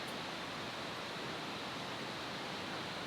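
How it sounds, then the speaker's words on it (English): A river flowing outdoors at a campsite: a steady, even rushing wash of water that fills the whole moment without change, fairly soft and continuous, with no voices. "The sound of the river, the birds, beautiful sunshine"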